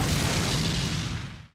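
A huge explosion tears through an international conference hall in an animated Detective Conan film, a loud, dense roaring blast that fills everything and then trails off quickly into silence.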